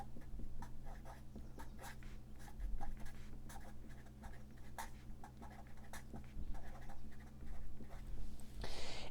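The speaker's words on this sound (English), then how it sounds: "I'm going to draw a free body diagram" A pen or pencil drawing a free body diagram for a hanging mass on paper, giving close, quiet scratchy strokes in irregular bursts with short pauses between them.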